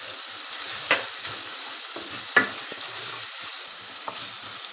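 Spices including salt, red chilli, turmeric and whole garam masala fry in a pan, a soft continuous sizzle broken by a couple of sharp spoon scrapes and taps while being stirred.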